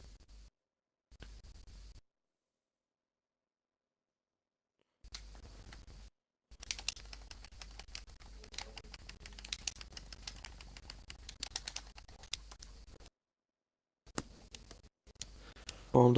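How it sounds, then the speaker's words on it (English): Light, quick keyboard typing picked up through a gaming headset microphone during an online race lobby, faint clicks and taps in bursts broken by gaps of silence. "Calm down with the typing there,"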